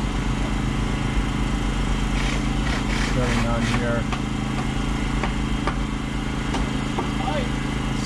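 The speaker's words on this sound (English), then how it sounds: "You hear the generator running their power tools here to board up." A generator runs steadily on a street while workers use power tools to board up shop windows, a constant mid-pitched engine drone with intermittent tool bursts and someone talking over it.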